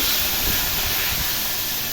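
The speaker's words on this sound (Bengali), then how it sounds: "এবার আমি মাথা দুটোতে হলুদ নুন মাখিয়ে ভেজে নিচ্ছি, ভালো করে লাল করে ভেজে নেব" Fish heads rubbed with turmeric and salt frying in hot oil, a dense continuous hiss and sizzle filling the short stretch at even loudness, no speech.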